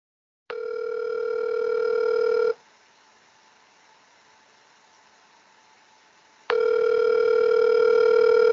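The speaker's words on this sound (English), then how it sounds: "I'm going to call Dave" An outgoing phone call rings back through a computer, with two long steady ringback tones separated by a quiet pause and a faint hiss throughout.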